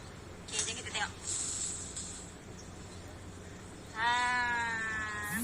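A cat, one of five in the household, gives a drawn-out, wavering meow near the end, following a few softer, indistinct sounds.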